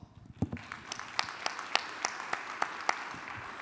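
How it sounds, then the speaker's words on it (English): Light applause from a conference audience for a presenter of a sustainability report, scattered separate claps at a steady pace, fairly faint and alone with no talk. "help me give Jeff a round of applause"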